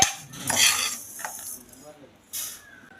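Flax seeds dry roasting in a pan without oil, stirred with a utensil that scrapes and clinks against the metal in short bursts, with a brief louder rattle near the end.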